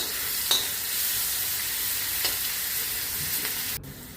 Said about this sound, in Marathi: त्याच्यामध्ये आपण तेल घातले, मोहरी, हिरवी मिरची आणि लसणाची पेस्ट मिक्स करायचं